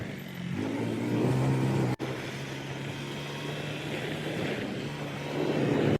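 Scooter ridden along a winding mountain road toward Kasol, its small engine humming and revving steadily under heavy wind rush, with a brief dropout partway and a rise in revs near the end.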